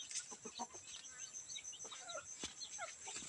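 Palawan native chickens clucking and calling in a farm pen, several short clucks and chirps scattered through faint outdoor background noise, with a chick nearby.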